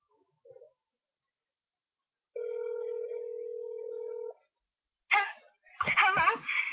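A telephone dial tone sounds as a friend is called, a steady unbroken tone lasting about two seconds in a quiet room, preceded by a faint short blip and followed by a voice.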